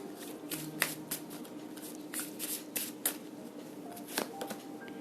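Tarot cards are shuffled by hand in soft, rapid riffles and flicks, close and fairly quiet, in uneven bursts with no talking.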